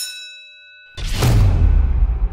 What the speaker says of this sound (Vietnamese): Và 5 giây bấm chuông để chọn chủ đề.